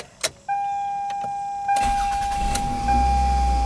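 A Toyota Highlander's engine cranks and catches after a brief click, surges up in revs, then drops back to a steady, smooth idle, close and clear with no voices.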